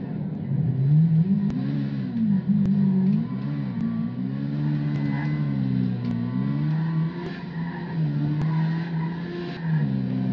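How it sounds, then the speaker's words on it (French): A car in GTA 5 Online driving hard, its engine revving up and down in wavering surges with tire squeal and skidding throughout, loud and continuous over about ten seconds. "j'espère que ça va être une voiture rapide quoi"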